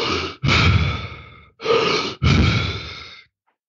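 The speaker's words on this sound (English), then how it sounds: "fast, deep breaths" Fast, deep full-lung breaths of a breathing method, four strong breathy inhale and exhale pushes in quick succession, close and loud, with no talking.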